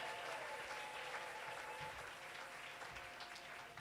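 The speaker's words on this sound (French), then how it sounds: "Et on acclame très fort pour Jésus" Church congregation applauding loudly and steadily for Jesus during a worship service, a dense, continuous wash of clapping from a large crowd with no pauses throughout.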